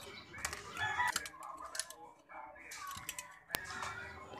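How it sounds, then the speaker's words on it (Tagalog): Fighting roosters crow in the distance while someone talks nearby, with scattered clicks and light tapping. "Medyo maingay ang mga panabong na manok, mga lods. Panay tilaok ang naririnig natin"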